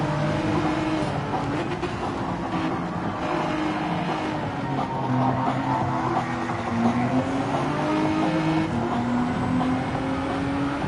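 A Honda NSX race car engine in a racing video game, droning continuously with shifting pitch as it revs and holds speed, loud and steady with no talk over it.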